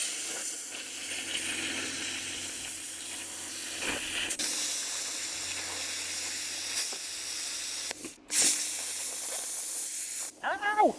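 A small portable cutting machine running off a compressor on an expedition boat cuts through 6mm metal. It makes a steady, loud hiss with a crackling sizzle, broken by a short pause and a few sharp bursts near the end.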